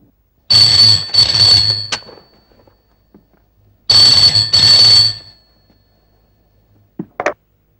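An old telephone bell rings loudly in two long bursts of about a second and a half each, separated by a pause, with a brief click or handset sound at the end.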